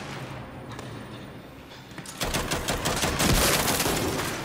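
Gunfire in the Gears 5 video game, a short burst of rapid automatic shots that swells in loudness after a quieter opening, dense and close with no voices.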